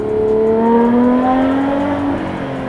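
A Ferrari 812 Competizione fitted with a full titanium exhaust drops through gears, its V12 howl falling in pitch with each downshift, loud and close with sharp, aggressive barks.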